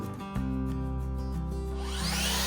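A Makita LXT cordless track saw makes a straight 90-degree cut, a steady loud motor whine with blade noise running continuously after a sharp start.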